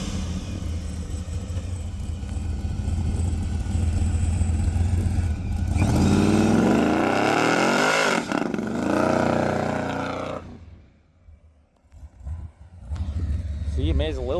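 A street car's engine revs up and climbs in pitch under load, then drops off and goes quiet before rumbling again. It is loud and close, with a voice talking over part of it.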